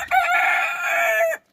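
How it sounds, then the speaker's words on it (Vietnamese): A rooster at a farm with two hens lets out one loud, close crow lasting just over a second, then stops abruptly, with no talk. "hai con gà mái, một con gà trống."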